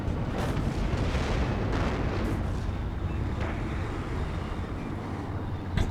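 Artillery strikes landing in the war strategy game Warno, a dense, continuous roar of rumbling booms and blasts that stays loud and heavy for the whole stretch, with a few sharper impacts cutting through.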